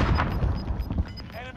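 Airstrike explosions land in a video game, dense low rumbling booms and thuds packed into a short burst, heard under a player's voice talking.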